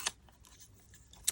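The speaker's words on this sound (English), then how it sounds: "I sharpen my Lightfast with just the Staedtler sharpener." Colored pencil, a Lightfast, sharpened in a Staedtler handheld sharpener: a faint, brief scratchy grinding with two sharper clicks at start and end, close and quiet.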